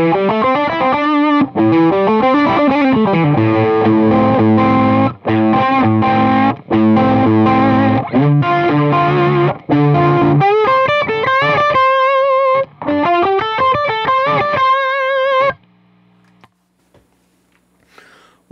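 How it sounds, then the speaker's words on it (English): An electric guitar plays through a Sparkle Drive mod overdrive pedal with a loud, distorted, chorus-like tone. Rapid picked notes and chords run continuously, then cut off and leave a faint hiss of the noise floor. "here's the Sparkle Drive mod in the background, and then we'll switch to the tube driver Echoplex."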